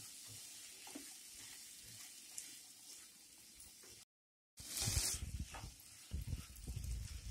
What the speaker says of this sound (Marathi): आता हे मिश्रण व्यवस्थित परतवून घेऊया.